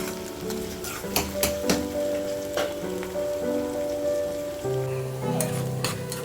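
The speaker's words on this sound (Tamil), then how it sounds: "அதை போட்டு இதை நல்லா கோல்டன் ப்ரௌனில் ஃப்ரை பண்ணி எடுக்கணும்" Sliced onions frying in hot oil in a pan until golden brown: a steady, close crackling sizzle with scattered pops, accompanied by faint tonal sounds in the background.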